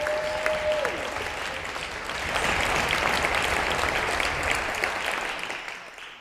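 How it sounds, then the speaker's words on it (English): A crowd applauds the class of 2026, dense continuous clapping that swells in the middle and fades out at the end, with a brief tonal hum at the start. "ladies and gentlemen, give a round of applause to our class of"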